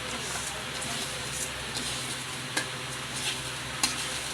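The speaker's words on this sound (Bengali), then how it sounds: "একটু চালটা ভালো করে ভেজে নিব" Rice fries in a pan for a vegetarian fried rice with ginger, a soft continuous sizzle under rhythmic stirring scrapes and a few sharper spatula knocks against the pan.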